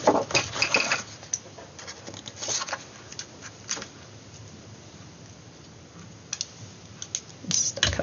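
Scissors cut through card stock for a three-fold layered card, giving a close series of crisp snips and clicks in quick bursts, with quieter gaps between them and no voices.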